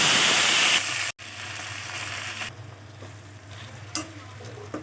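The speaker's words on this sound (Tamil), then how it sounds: "நல்லா வதக்கிக்கோங்க" Fresh mint sizzles loudly in hot oil with urad dal, dried red chillies and garlic, a close frying crackle broken by a brief pause and stirring scrapes, then settling into a quieter sizzle.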